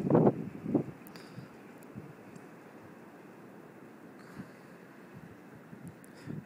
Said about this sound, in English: Sun is bright as hell today, and it's windy.